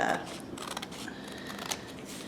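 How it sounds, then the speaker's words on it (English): Scissors snip the excess edges off a cross stitch card, giving a few soft, close cutting and rustling sounds over low room noise. "I'm just going to take my scissors and cut off that excess from the 3 open sides"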